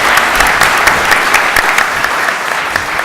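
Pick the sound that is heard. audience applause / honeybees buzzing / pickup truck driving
audience applause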